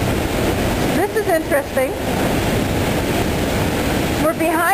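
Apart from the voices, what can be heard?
Niagara Falls water plunging, heard from behind the falls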